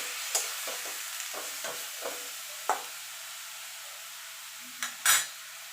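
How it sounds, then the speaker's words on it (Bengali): Bottle gourd is stirred and sautéed in a pan for a vegetarian gourd dish, with a soft sizzle under intermittent spoon scrapes and clatters. The knocks come in a loose, irregular rhythm, with a louder clank near the end. "এবার লাউটাকে আমি খানিক একটুখানি নাড়াচাড়া করে নেব।"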